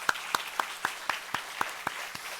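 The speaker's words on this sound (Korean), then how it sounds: "우리 한번 교사 선생님들 힘내라고 우리 박수 한번 격려하겠습니다." Church congregation clapping to encourage teachers at a teacher-blessing service, heard as a slow, regular series of about nine distinct claps in a steady rhythm, fairly quiet against a faint room hum.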